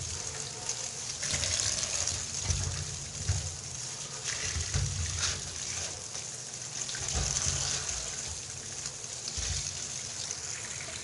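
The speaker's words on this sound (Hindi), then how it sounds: "सबसे पहले हम बैंगन को धुलाई कर लेंगे, अच्छे तरीके से हमने धुलाई कर लेना है।" Eggplants washed under running tap water, a steady close trickle and splash with intermittent sloshing as the vegetables are handled, no talk.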